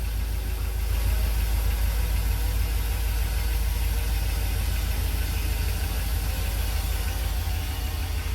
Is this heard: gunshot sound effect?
no